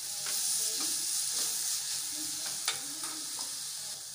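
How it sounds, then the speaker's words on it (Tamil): Chopped tomatoes sautéing with onions, turmeric and asafoetida in a pan for Bombay chutney, a steady bright sizzle with occasional stirring scrapes, close and continuous with no voices. "தக்காளியை நல்லா வதக்கணும்"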